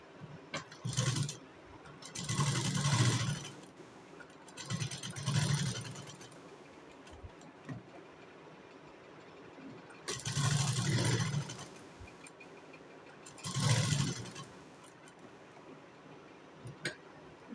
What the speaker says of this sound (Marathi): आता आपण याला शिलाई मारून घेऊया